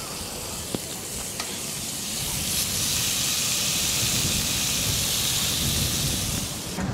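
Steak frying in a pan for a camping dinner at a San Elijo campsite, a steady loud sizzle and hiss that swells after a couple of seconds and holds without a break.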